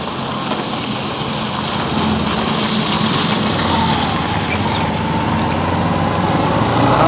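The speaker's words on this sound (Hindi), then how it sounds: "लहसुन का ट्रक जा रहा है" A passing truck loaded with garlic, heard on a road near a vegetable market in Mandsaur as a steady engine rumble and tyre roar that swells slightly toward the end, with no talk over it.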